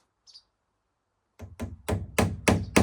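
Hammer blows drive nails into plywood sheathing boards on a small house build in Iceland: after a faint early tap, a run of six sharp, loud, close strikes comes in a steady rhythm, each ringing briefly.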